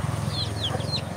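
Little chicks peep in high, sliding chirps over a steady low hum, several short calls close together and fairly near, with no talking.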